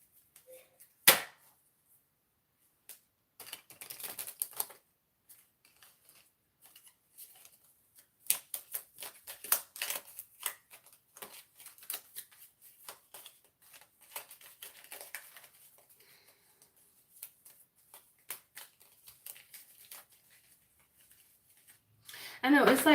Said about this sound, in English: Let me pull more cards on this just to get more clarity on that.